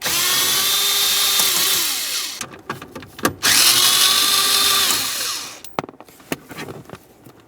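Cordless power tool spinning out 7mm-head bolts under the dash of a 2001-2005 Ford Explorer Sport Trac, two long close whirring runs that rise and wind down, with short clicks and rattles between them.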